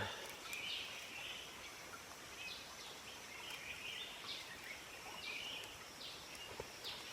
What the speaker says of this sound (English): I'm going to stop and start walking so you can hear the birds.